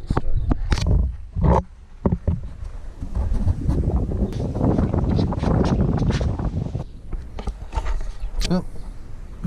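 Exhaust system being worked loose from beneath a 2004 Subaru Legacy, with loud, close scraping, rattling and metallic knocks across the whole stretch, and a person speaking at times.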